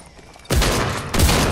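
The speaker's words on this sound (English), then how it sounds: "Holy shit, I'm getting shot." Loud, close bursts of sustained automatic gunfire in a Fortnite trio match, a heavy volley starting abruptly and a second intensified burst following, with no talk over it.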